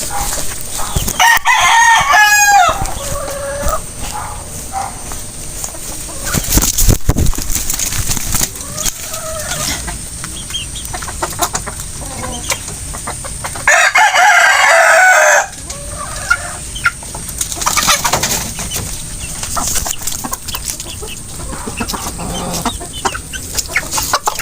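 A rooster crows loudly and close by, with hens clucking around it, bursts of crowing breaking through steady farmyard noise with no talk.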